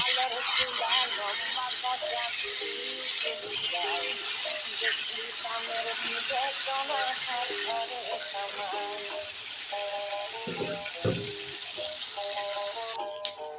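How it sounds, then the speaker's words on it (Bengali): Pangas fish fry in hot oil, giving a constant close hiss and sizzle while a person talks over it. "এক পিঠটা মাছ ভাজা হয়ে গেছে এবার উল্টে নেব"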